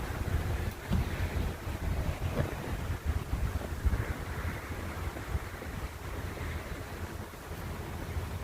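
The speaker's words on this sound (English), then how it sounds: "It's kind of breezy here too." Breezy wind blowing outdoors at a campsite, buffeting the microphone in uneven gusts with a steady rushing wash underneath, no speech.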